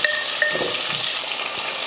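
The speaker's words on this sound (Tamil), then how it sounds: "நல்லா தோலெல்லாம் சீவிட்டு நல்லா ரவுண்டாக வெட்டி போட்டு வதக்கி விட்ருவோம்." Round slices of peeled radish sautéing with onions in a pan, a close, steady sizzle with faint stirring scrapes, brief and uninterrupted by speech.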